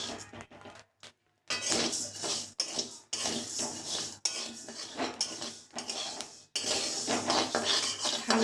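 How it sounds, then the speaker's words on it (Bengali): Rice dry-roasting in a pan without salt, stirred with a utensil that gives repeated close scraping and rattling bursts, broken by a few short pauses. "নুন ছাড়া ভাজা হচ্ছে।"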